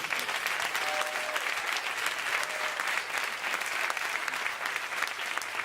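A crowd claps continuously and fairly loudly, a dense, even wash of applause with no talking over it.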